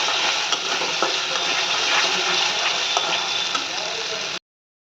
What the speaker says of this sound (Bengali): এই সবগুলোকে দিয়ে ভালো করে কষাতে হবে